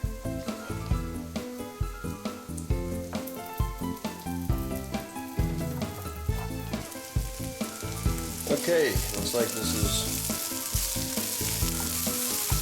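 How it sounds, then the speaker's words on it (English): Mushrooms sizzle steadily in butter in a hot frying pan, a close, continuous crackle and hiss that grows brighter toward the end, with a brief spoken remark. "It's sizzling nice."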